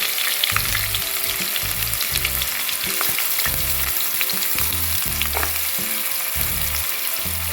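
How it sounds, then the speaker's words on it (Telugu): Curry leaves and chopped onions fry in hot oil with cumin for a small-fish tamarind curry, giving a steady loud sizzle with repeated bursts of spatula stirring and scraping against the pan throughout, no voices. "కరివేపాకు వేసాను. అలాగే దీంట్లోనే ఉల్లిపాయలు."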